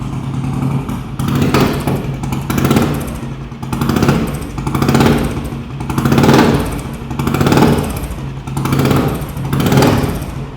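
A 2005 Royal Enfield Thunderbird single-cylinder motorcycle engine runs steadily at idle with a loud, rhythmic thumping beat that swells and dips in regular pulses, close by and alone without talk.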